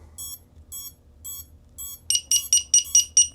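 Electronic buzzer on a Pavo20 Pro FPV drone beeping: four short, evenly spaced high beeps, then a faster run of louder, harsher buzzing pulses close by.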